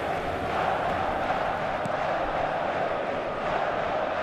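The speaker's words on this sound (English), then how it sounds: "the crowd clearly like what they just saw" Stadium crowd roaring and cheering in an eFootball match after a sparkling save, a dense, steady wall of noise without a break.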